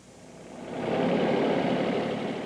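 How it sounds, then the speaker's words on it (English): A tractor engine runs steadily, a broad mid-range rumble that swells after the first second and then holds at a fairly loud, even level with no voices. "He's on a tractor"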